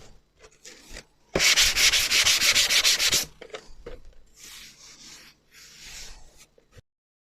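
An MDF panel is sanded by hand before painting. A loud, steady rasping scrub runs for about two seconds, then gives way to softer, intermittent rubbing strokes that fade out.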